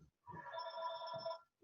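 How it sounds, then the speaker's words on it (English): A telephone rings indoors, a single electronic trill lasting just over a second, moderately loud and clear, with faint sound around it. "excuse the phone."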